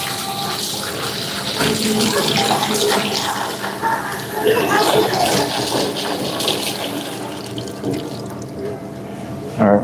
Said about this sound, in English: we're just getting some water to put our potatoes in when they're cut up